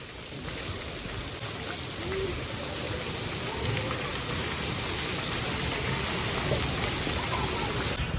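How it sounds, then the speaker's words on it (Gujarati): Heavy monsoon rain pours steadily over a street in Mehsana, Gujarat, a dense, continuous hiss of downpour that holds at an even, loud level throughout. "મસ્ત વરસાદ"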